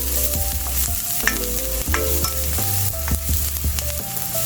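Onions sauté in a pan with a close, steady sizzle, broken by repeated scraping and stirring strokes of a utensil against the pan.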